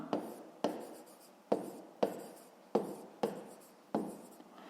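A pen or pencil writes by hand on paper during a fifth-grade maths exercise, with about seven quiet, evenly spaced strokes and scratches, close up.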